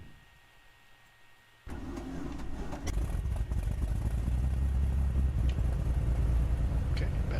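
A Cirrus SR22 piston engine in FSX flight simulator catches abruptly after a quiet cranking start, then settles into a loud, steady droning run with a low rumbling roar, close and continuous, with a voice speaking over it.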